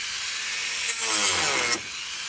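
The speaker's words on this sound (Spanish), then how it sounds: "Lo que hice es cortar con una Dremel." A Dremel rotary tool cuts into a car bumper on a Toyota MR2, giving a short, close, raspy grinding burst of under a second that stops abruptly amid quieter background.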